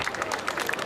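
Audience applause at a Hindi comedy poetry gathering: a dense, steady wash of many hands clapping from a crowd, sustained throughout.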